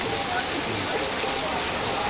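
Heavy rain pouring steadily onto a market in Ramgarh Shekhawati, a dense continuous hiss with no pauses.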